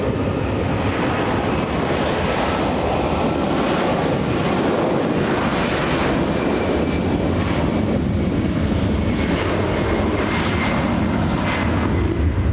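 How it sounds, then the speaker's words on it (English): A Boeing 767 takes off at LAX, a loud, continuous jet engine roar with broad rushing noise and wind buffeting, heard from nearby, with no talk over it. "We have that 767 taking off"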